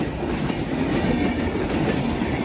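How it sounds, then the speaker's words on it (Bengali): The Madhumati Express runs through a station without stopping, a loud continuous rumble and roar of rail cars with a faint rhythmic clatter of wheels throughout, close by and with no voices. "মধুমতি এক্সপ্রেস ট্রেনটি আপনারা দেখতে পাচ্ছেন থ্রু পাস করে আমাদেরকে রেখেই চলে গেল"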